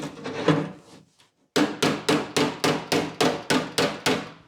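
Light hammer blows on the steel door bottom of a 1962 Cadillac Series 60 Fleetwood, with a few softer scraping taps and then eight evenly spaced sharp metallic strikes at close range.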